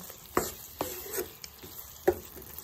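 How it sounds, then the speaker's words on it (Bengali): A spoon stirs and sautés spiced green bean (shim) curry in a pan, giving a few scraping strokes over a soft background sizzle, moderately close and with no talking. "এবার চলুন আবার সব একসাথে মিশিয়ে কষিয়ে নেব।"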